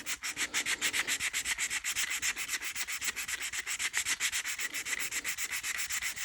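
A Durablock sanding block rubbed back and forth along a leather edge, producing loud, rhythmic rasping strokes in a steady quick cadence, close and with no voices.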